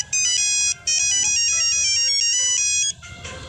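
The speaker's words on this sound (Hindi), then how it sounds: "उसके मोबाइल की टोन" A mobile phone ringtone plays loudly on its own, a bright repeating electronic melody that pauses briefly near the start and then rings on steadily before cutting off.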